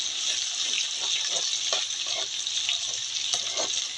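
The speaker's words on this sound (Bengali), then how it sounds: "একটু লাল লাল করে ভেজে নেব রসুনটা।" Garlic sizzling in hot oil in a home kitchen pan, a steady close crackle and hiss with small spitting pops throughout.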